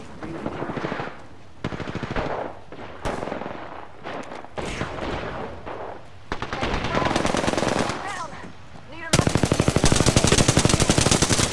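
Automatic weapons fire in the video game Apex Legends: rapid sustained bursts that grow louder and denser toward the end, broken by short pauses, with faint voice callouts in the mix.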